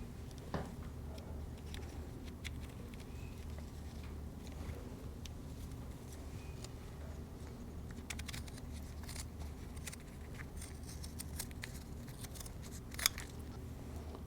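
Scissors snipping through a carbon fiber weave layer cut around a template during a composite propeller gouge repair, a steady run of faint crisp clicks and crunches over low room hum, with one sharper snip near the end.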